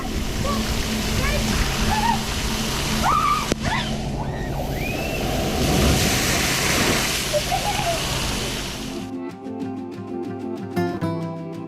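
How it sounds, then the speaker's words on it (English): A water park tipping bucket dumps a large load of water, a loud, continuous splashing roar that fills most of the stretch before cutting off abruptly near the end. "That bucket of water, by the way, there is a lot of water that comes out of there."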